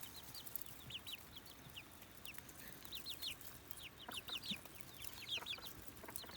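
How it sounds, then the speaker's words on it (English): Backyard chickens and a rooster cluck and chirp close by, with scattered short calls over a faint rustling outdoor background. "There's another rooster."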